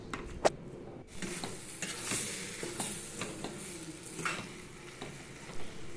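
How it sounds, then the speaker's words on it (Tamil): Chicken sizzles steadily in a hot pan while a utensil stirs and scrapes, with occasional sharp clinks and no voices. "சிக்கனை நன்றாக சேர்த்து 10 நிமிடம் வதக்கி விட்டுக்குங்க."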